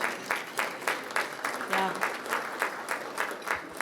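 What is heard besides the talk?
audience applause at chamber of commerce meeting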